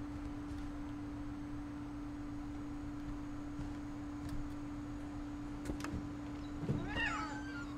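A cat meows once in the video game What Remains of Edith Finch, a short rising call near the end over a steady low hum and faint background noise.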